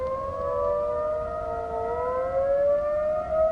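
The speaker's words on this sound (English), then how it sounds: "setting off every emergency siren in Dallas, Texas at once in the middle of the night" Emergency civil defense sirens sound across Dallas, Texas, in the middle of the night: loud, wailing tones that slowly rise and fall together, echoing and sustained without pause.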